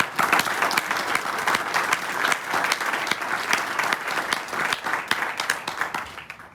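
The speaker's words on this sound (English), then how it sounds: "And a big round of applause also for faculty, staff, and parents this morning." Audience applause for faculty, staff and parents at a club meeting: a dense, steady roomful of clapping that stays fairly even for several seconds, with a few louder individual claps near the front and no talking.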